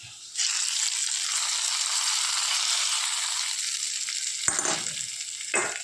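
Hot tempering poured into a jackfruit seed and drumstick curry, giving a sudden loud, steady sizzle that holds for several seconds, then two brief sharp clinks near the end.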